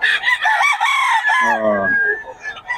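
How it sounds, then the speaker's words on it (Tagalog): A rooster crows once nearby, a loud, drawn-out call that breaks off into a lower, rougher tail. "mura ng mga manok kayo ni Boss Joseph"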